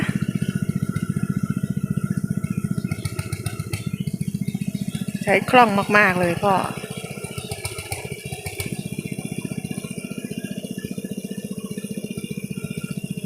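A small walking tractor plowing a flooded rice field gives off a steady, close rattling engine chatter that runs the whole time, with a brief exchange of voices partway through.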